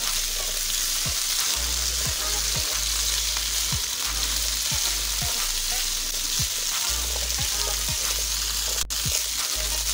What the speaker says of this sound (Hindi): ये मैक्रोनियाँ हमने बॉईल की हुई थी, ये भी इसमें शामिल कर लेंगे। इन्हें भी साथ ही फ्राई कर लेंगे।